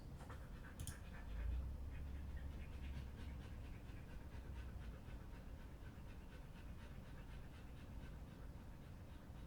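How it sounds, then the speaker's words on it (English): A dog named Morty panting under a desk, a faint, quick, steady breathing rhythm close by in a quiet room. "Apologies if you can hear Morty panting underneath my desk."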